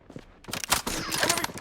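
Rapid bursts of gunfire from the Blood Strike video game, dense and loud, with overlapping shots that intensify after a brief quieter opening.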